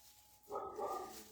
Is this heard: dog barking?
yes